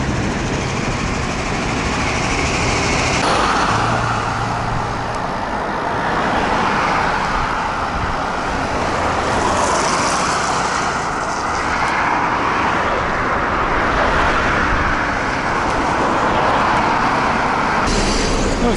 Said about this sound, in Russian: Да, трафик громадный просто.